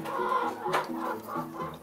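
Several organic laying hens cluck and murmur together by their nesting boxes, a steady overlapping chatter of short clucks with no talking.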